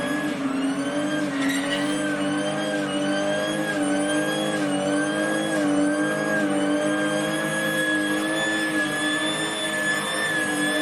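A powerful supercharged car engine roars and revs continuously at high speed, loud and close, with a steady supercharger whine throughout.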